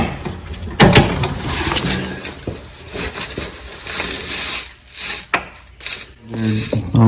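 Metal file rasping on a retainer clip for a John Deere D140 lawn tractor, uneven rubbing strokes close by with scrapes and knocks in between.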